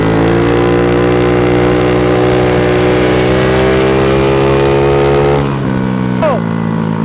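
A scooter fitted with nitrous oxide revs hard while being ridden, giving a loud, sustained, buzzing engine whine that holds steady, then dips and briefly flares near the end.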